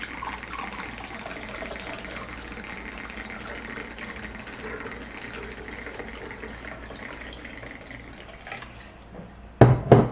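Homemade apple cider vinegar pours steadily into a pot, a soft continuous trickle close by that ends with a brief clatter of kitchenware.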